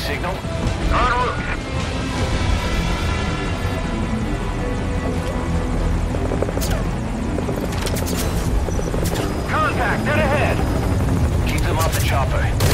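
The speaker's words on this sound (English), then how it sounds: "Chopper. If it goes down, the show's over." Helicopter rotor noise from the Metal Gear Solid V: Ground Zeroes game, a steady loud whir running throughout, mixed with bursts of gunfire and radio-style voices speaking over it.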